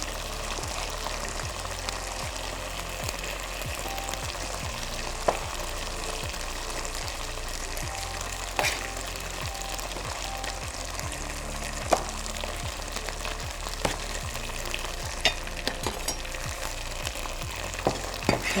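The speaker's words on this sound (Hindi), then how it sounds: "यहाँ हम अदरक लहसुन सौते करके इसमें हम अपनी चिकन क्यूब ऐड कर देंगे" Ginger and garlic sauté in a hot pan and chicken cubes go in, making a steady, close sizzle and crackle with light scraping and stirring throughout, and no talking.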